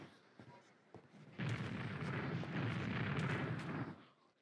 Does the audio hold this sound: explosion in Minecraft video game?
yes